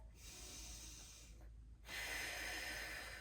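A slow deep inhale then exhale through the nose during a neck stretch lying on a foam roller, close and soft, with steady hiss-like airflow and no talking.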